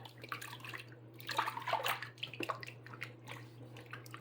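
Feet are washed by hand in a basin of soapy water, giving faint, close splashing, swishing and dripping sounds in irregular bursts over a steady low electrical hum.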